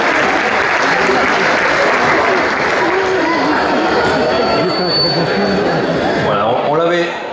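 Audience clapping warmly for a departmental councillor introduced at an Auvergne gathering, sustained applause mixed with crowd chatter and a presenter's voice talking over it, tapering at the end.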